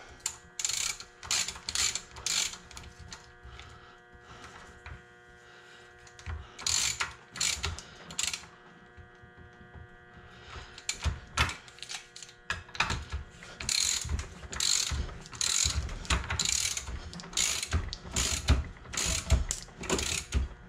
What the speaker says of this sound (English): It is 1/16 socket. We'll tighten this one up.